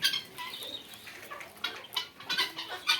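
Japanese quail chirp and cluck in short bursts, several calls overlapping in a busy coop on a quail farm, with no voices.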